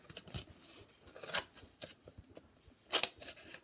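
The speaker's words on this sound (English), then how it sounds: "So you can cut off the tape now." Scissors snip through tape at the top of a homemade paper-and-cup money bank, several quick crisp cuts close by, with light handling rustle between them and no talking.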